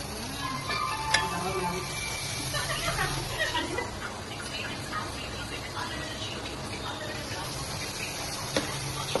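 Onions fry in a hot pan in a home kitchen, giving a steady crackling sizzle with occasional sharper pops and stirring scrapes, while people talk nearby.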